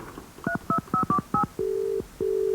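A touch-tone telephone being dialed: five short, evenly spaced keypad tones in quick succession, then two longer steady tones, loud and close with no talking.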